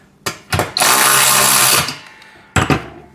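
A power driver spins a nut down onto a washer while assembling a VEVOR pec deck and rear delt home gym machine: short whirring bursts, then one long sustained run, and a final brief burst, close and loud.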